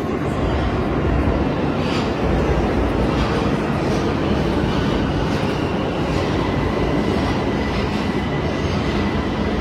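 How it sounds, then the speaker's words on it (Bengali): A crowded Iranian metro train in motion, heard from inside as a constant loud rumble and rattle of the carriages on the rails, steady throughout with no clear voices. "এখন আছি হচ্ছে ইরানের মেট্রোতে"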